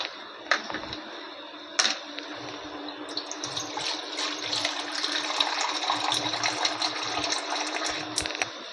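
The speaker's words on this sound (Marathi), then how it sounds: "हे बघा आता थोडं याच्यात मी पाणी घालते" Water pours into a pan of broccoli, cashew and potato vegetable curry, a few metallic clinks at first, then a sustained splashing stream that runs to the end.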